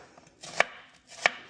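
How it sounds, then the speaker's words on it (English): Two crisp knife chops through onions on a cutting board, evenly spaced and close, with quiet rustling between them and no speech. "While that is cooking, I'm going to start chopping up the rest of these."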